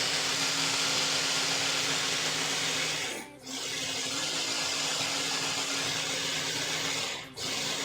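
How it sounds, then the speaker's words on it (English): Kitchen blender whirring continuously at close range, loud and steady, with two brief dips where the motor cuts out for a moment before spinning back up. "Blender, blender, blender, blender."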